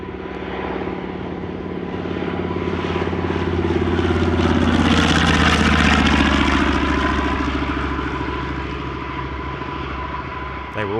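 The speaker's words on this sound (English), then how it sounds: "it was the heaviest single-engined aircraft of the Second World War and the most widely used torpedo bomber of that conflict" A WWII single-engine torpedo bomber, the heaviest single-engined aircraft of that war, passes at an airshow: a loud propeller-engine roar that swells to a peak overhead mid-pass with a clear Doppler sweep, then fades slightly, no talk.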